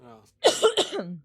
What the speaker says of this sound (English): That's why I'm just coughing.